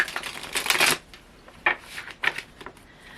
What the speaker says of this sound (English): I'm just doing a little bit of shuffling here